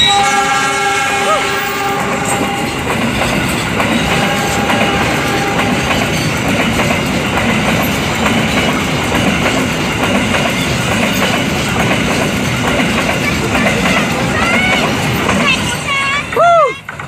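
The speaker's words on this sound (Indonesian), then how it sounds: "Tiga kereta api batu bara." A long coal freight train rolls past up close, a loud continuous rumble of wagons with rhythmic clacking over the rail joints and a horn sounding near the end, with a voice talking over it.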